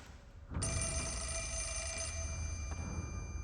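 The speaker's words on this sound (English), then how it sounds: "Never mind, we got a phone call." A telephone in the video game Fatal Frame Mask of the Lunar Eclipse abruptly starts ringing, a bright electric bell trill that cuts in after a quiet moment and keeps sounding loudly over a low ambient rumble.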